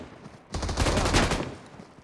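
A rapid machine-gun burst from the BGMI battle royale game rattles loud and close for about a second, then trails off into quieter game noise.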